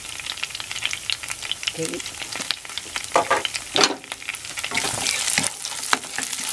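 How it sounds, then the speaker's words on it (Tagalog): Garlic sizzles and fries in a pan while a sauce for salmon steak with butter and olive oil is started, with crackling pops and stirring scrapes throughout, close by, and a brief spoken word. "Sutin natin itong bawang."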